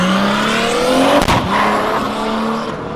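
A turbocharged Caravan of about 1000 horsepower, with 12 injectors and a high-lift cam, revs loudly and close, a rising engine whine broken by a sharp burst partway through, with no voices.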